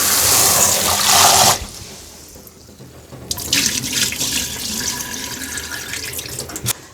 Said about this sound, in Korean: 밥 안칠 쌀을 씻어 보겠습니다.